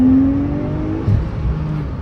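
A Porsche 911 991.1 Turbo with a Stage 2 Plus tune accelerates on a test drive, its engine holding a loud, strong drone whose pitch sags slightly, with no talking over it.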